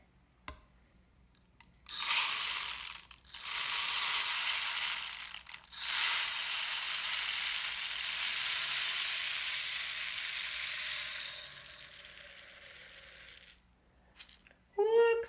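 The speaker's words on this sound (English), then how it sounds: "We get to fill it with bird seed. I'm going to use a funnel to make sure that everything gets in there." Bird seed pours through a funnel into a bird feeder, a loud continuous hissing, rattling stream running for about ten seconds, broken by short pauses near the start, with faint handling noises before and after.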